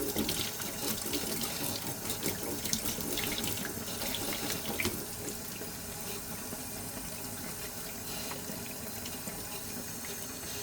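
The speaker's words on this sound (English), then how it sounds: "I'll just give this a little rinse off first." Water runs steadily from a kitchen tap as soaked items are rinsed beneath it, a continuous close splashing stream that keeps going throughout, with no speech.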